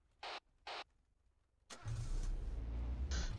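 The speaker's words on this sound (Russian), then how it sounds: "А вон, вон, тачка около военки." A car parked near a military enlistment office starts up after two short sharp clicks, its engine catching and settling into a steady close idle.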